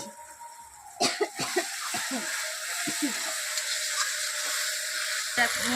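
A spice paste of cumin, turmeric and chili powder mixed with water frying in a pan for chicken, giving a soft continuous sizzle with scattered clinks and a cough or two near the start.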